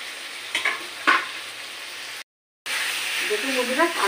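Onions and spice powder frying and being stirred in a pan for black pepper chicken, a continuous sizzle with a few scraping stir strokes and a brief gap of silence.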